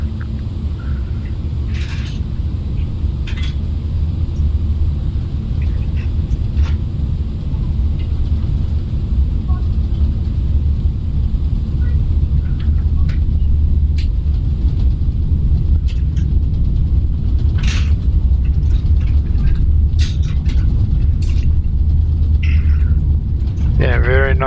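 Speed brakes deployed on an Airbus A340 in a flight simulator, producing a steady, loud low rumble of airflow and engine noise throughout, with faint scattered clicks and small cockpit noises over it.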